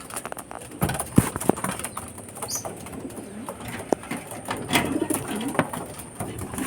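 Racing pigeons coo and flutter inside a loft during derby preparation, with scattered wing claps and shuffling knocks throughout.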